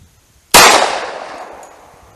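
A single .45 ACP shot from a Rock Island full-size 1911 pistol with a 5-inch barrel, fired at a ballistic gel test. One sudden, very loud crack is followed by a long ringing decay over about a second and a half.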